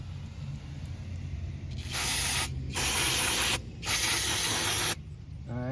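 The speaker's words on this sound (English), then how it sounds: "let's clean off our rotor here. Get all the brake dust off." Brake cleaner sprays onto a 2018 Subaru Outback rear brake rotor to clear brake dust: three loud, close hissing bursts, each roughly a second long, separated by short pauses, with no talk over them.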